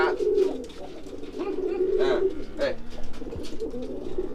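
A male racing pigeon coos steadily while courting a newly paired hen, its low throaty calls repeating close by, with faint background noise throughout.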